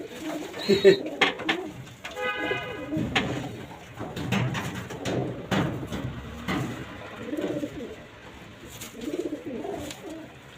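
Racing pigeons at a loft, including a silver bagha pigeon, give low murmuring coos that come and go in soft bursts, mixed with a few faint clicks and shuffling.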